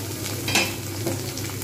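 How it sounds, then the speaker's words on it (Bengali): Potatoes for a papad curry fry in a pan while being turned over, giving a steady close sizzle with a brief scraping stir near the middle. "আরেকটু আমি এপিট ওপিট করে ভাজবো"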